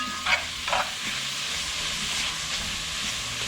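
Bacon frying in a pan for shrimp and grits, a low steady sizzle with brief louder spatters near the start, close and alone.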